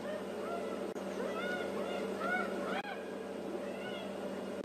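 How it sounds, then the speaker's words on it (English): Hyena calling near a male leopard on a morning safari drive, a run of rising whoops and yelps at middle distance repeating over steady outdoor ambience and engine hum. "Now there's a hyena there making a racket"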